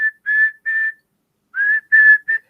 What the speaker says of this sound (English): start blowing that whistle